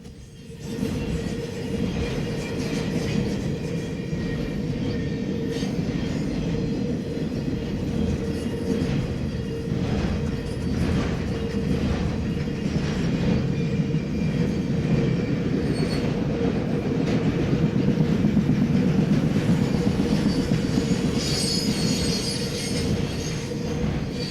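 A BNSF westbound intermodal freight train rolls past for a long stretch, a loud continuous rumble of wheels with clatter, squealing and a steady tonal hum, growing slightly louder toward the end.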